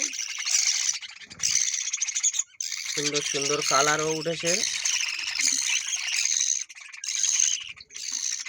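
Budgerigar chicks and their parents, with two pairs sharing one nest box of young, chirp and squawk in a busy, continuous chatter, with a short burst of harsh squawks midway while a person talks over the birds.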